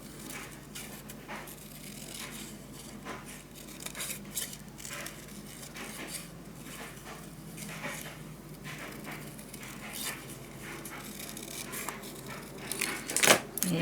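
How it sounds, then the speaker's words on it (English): Scissors snipping through paper to cut out a moth shape for a celestial-themed scrapbook storage tower, a series of soft, close crisp snips and rustles with paper handling throughout, ending in a brief louder crinkle. "I'm gonna cut out this moth."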